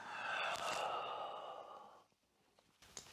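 A person exhales in a long, audible breath during high-intensity yoga practice, loud and close for about two seconds, then quiet with a faint small breath near the end.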